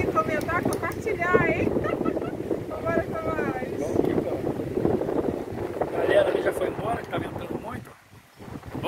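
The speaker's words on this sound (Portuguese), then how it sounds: "muito vento." Strong wind buffets the microphone on a fishing boat, a constant loud roar under someone talking throughout, dropping off briefly near the end.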